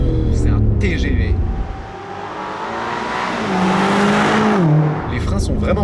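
A BMW M5 Competition with four-wheel drive accelerates under heavy engine revving, its pitch rising through the gears with a brief shift dip, while someone talks over the start and end.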